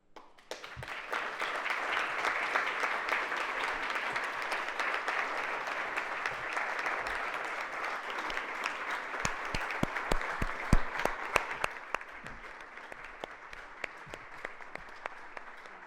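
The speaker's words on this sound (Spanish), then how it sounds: "todos estos aplausos son todos para Pepe" Sustained audience applause following a poetry reading at an anniversary event for José Hierro's "Cuaderno de Nueva York," a dense, steady wash of many hands clapping that tapers toward the end with a few sharper individual claps.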